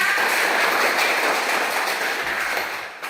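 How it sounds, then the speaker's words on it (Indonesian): A group of children clap together for Marsa, a dense and steady patter of hands at close range that holds evenly before thinning out near the end. "Pintar, tepuk tangan untuk Marsa."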